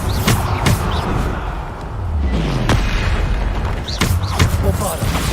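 Bombarda spells go off repeatedly in Hogwarts Legacy on hard mode, loud booming blasts landing about every second or so over dense, rumbling combat noise.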